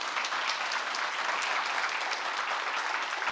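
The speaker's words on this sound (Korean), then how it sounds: "우리 박효근 대표님께 박수 부탁드리겠습니다" A live audience at an entrepreneurship concert claps for a development company CEO, a steady, even round of applause from many hands, moderately distant and uniform throughout, with no voices over it.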